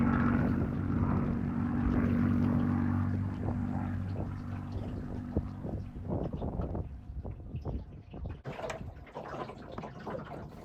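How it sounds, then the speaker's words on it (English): A propeller aircraft passes over Chichester Harbour, its steady droning engine loud at first and slowly fading, while closer knocks and clatter from a boat on the water come through toward the end. "These iconic aircraft are a regular feature of the skies above Chichester Harbour."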